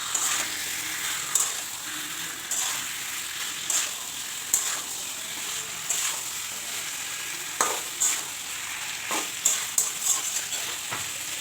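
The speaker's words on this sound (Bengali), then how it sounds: "মাংসটা দিয়ে কিন্তু খুব ভালোভাবে নাড়াচাড়া করে মাংসের গায়ে সব মশলা ভালো করে" Spiced chicken pieces stirred with a spatula in a hot pan, a continuous bright sizzle punctuated by scattered scrapes and clinks of the utensil against the metal, without speech.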